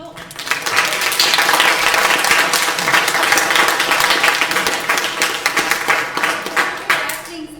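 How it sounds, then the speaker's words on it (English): A theatre audience at a Dracula performance breaks into loud, sustained applause, dense clapping filling the room evenly for several seconds. "Give yourselves a round of applause."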